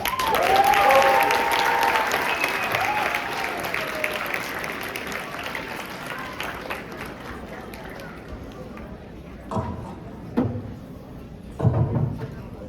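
A school audience claps after a candidate's election speech at a student assembly event, loud and dense at first, then fading into scattered, thinning claps with a few louder bursts near the end.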